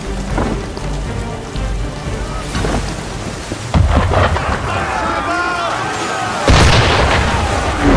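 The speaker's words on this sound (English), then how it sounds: "Why is he shooting at us?" Heavy cannon or gunfire booms out during a stormy sea scene in Assassin's Creed 3 aboard a ship, with deep blasts striking over constant rain and wind noise while a voice speaks briefly.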